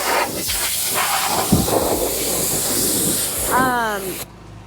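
Broad steady hiss of water spraying runs through the clip, with scattered voices and a brief rising whine near the end before it cuts off.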